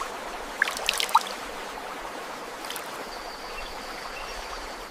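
A forest stream flows in a steady, soft rush of water, with a few faint bird chirps above it and no voices.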